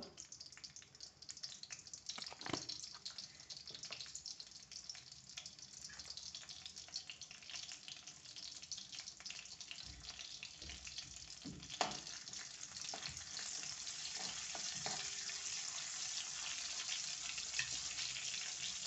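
Green chili pieces, a few garlic cloves and asafoetida sizzle in hot oil in a pan for spring onion vegetables. The sizzle is a steady, fairly faint hiss that slowly grows, with a few stirring scrapes and clinks.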